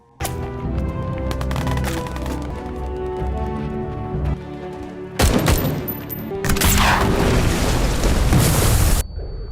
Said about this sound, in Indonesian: Tiba-tiba musuh menembakkan RPG.